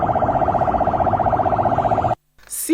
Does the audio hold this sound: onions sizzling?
no